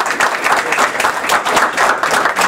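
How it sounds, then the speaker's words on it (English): A crowd claps for Charlie at a talk on school property tax elimination, a loud and lively round of applause that pulses in uneven swells of overlapping hand claps from start to finish. "So I want to give a round of applause for Charlie."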